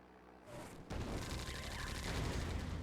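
Gatling and magnetron units open fire in a Red Alert 2 battle, a dense, continuous crackle of rapid shots and buzzing energy blasts that thickens after a quieter start.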